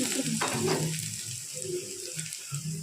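Mustard seeds spluttering in hot oil for rasam, a close sizzle with scattered crackling pops and soft stirring scrapes, with no talking.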